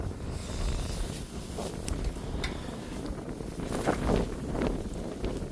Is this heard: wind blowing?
yes